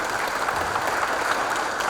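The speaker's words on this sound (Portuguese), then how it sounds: "Palmas para o Wallace também." Applause for a speaker at the opening of a state engineering congress in Rio: a steady, dense crowd clapping, moderately close and even in level for the short stretch with no voices on top.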